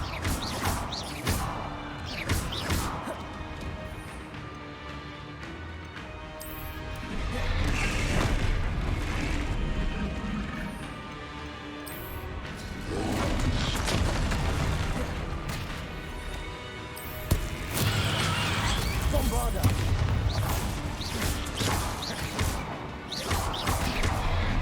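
Repeated Bombarda spell explosions in Hogwarts Legacy, heavy booming blasts and crashes layered over dense game music and combat noise, coming in loud waves with no clear gaps.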